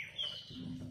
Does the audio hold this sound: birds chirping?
yes